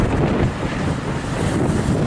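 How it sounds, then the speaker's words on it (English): Strong outdoor wind buffets the microphone beside an obelisk, a loud continuous rumbling roar with no pauses. "Quite windy."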